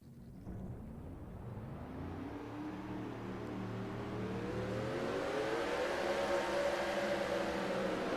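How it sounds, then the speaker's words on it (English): Several race car engines in a video game race at Pocono drone and rise together in pitch, a layered, synthetic-sounding revving that builds steadily louder over several seconds. "Drivers, start your engines!"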